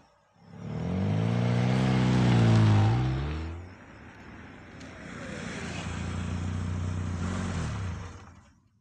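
A car is driven past close by, its engine rising in a loud, revving roar that peaks, dips, then builds again into a sustained drone before cutting off.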